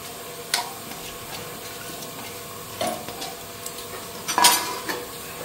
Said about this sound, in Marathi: आता तांदूळ टाकून घ्यायचा.